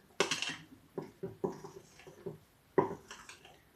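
A utensil stirring yeast dough mixture in a bowl, a handful of sharp scraping clinks against the bowl in an uneven rhythm, close and fairly quiet with no talking.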